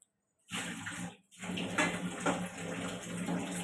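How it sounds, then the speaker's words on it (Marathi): Tap water runs into a sink while dishes are washed, a steady close rush that starts abruptly, cuts out briefly, then pours on with small splashy variations. "भांडी घासतो तू"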